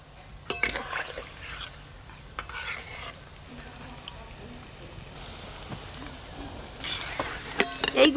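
Egg onion chops bubble gently in frying oil, a soft low sizzle dotted with sharp utensil clinks and scrapes, with faint voices in the background.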